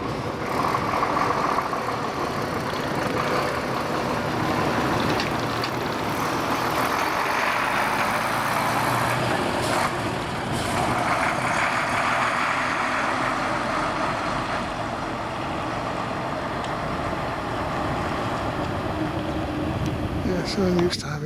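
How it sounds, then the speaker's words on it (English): A bus pulls up from behind at the 2012 Weston bus rally, its engine giving a steady, continuous rumble amid a busy outdoor background of vehicles and voices. "I can hear a bus coming up behind me."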